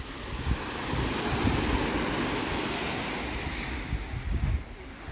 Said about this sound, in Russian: Волна небольшая.